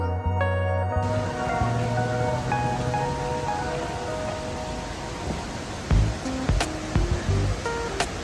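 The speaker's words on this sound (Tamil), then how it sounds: "இதுக்கு மேல இருக்கிறது தான் பெரிய வாட்டர் ஃபால்ஸ்." Rushing water at the Kumbavurutty waterfall area, a constant broadband roar that is loud and continuous, with a few brief knocks and thuds near the end.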